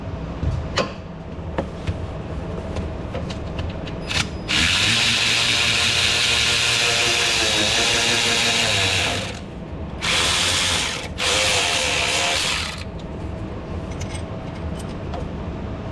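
A ratchet working a stud loose on a ZF 8- or 9-speed automatic transmission: a steady, loud clicking and whirring run of several seconds close by, then two shorter bursts after a brief pause.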